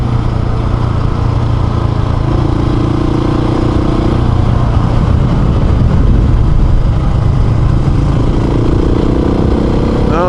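Steady motorcycle engine drone on an offroad adventure ride, descending a range through tight turns, with a continuous mid-pitched hum and shifting tones as the bike works down the slope, close and loud, no talking.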